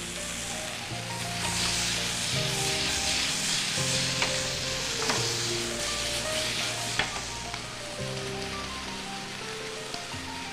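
Tomatoes fry in a pan with salt during a home cooking show, giving a steady, close sizzle with a few stirring clinks, over a low background of music.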